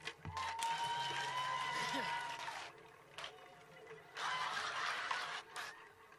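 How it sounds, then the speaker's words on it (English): An audience claps spontaneously at a live worship music show in two bursts of scattered hand clapping, with a voice talking and laughing over and between them. "Y'all are so sweet for that spontaneous clapping"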